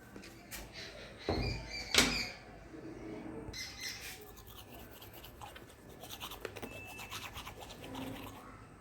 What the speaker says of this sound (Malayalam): നമുക്ക് ബ്രഷ് ചെയ്യാം.